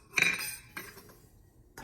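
A steel spoon clinks against a bowl while oil is added to coarse bhakhri flour, giving one bright sharp clink and then a few softer taps fading out, close by and with no voices.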